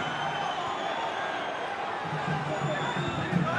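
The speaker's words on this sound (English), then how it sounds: "The crowd were getting a little bit agitated." A stadium crowd at an A-League football match between Adelaide United and Wellington Phoenix keeps up a constant, distant roar and murmur, with faint voices mixed in.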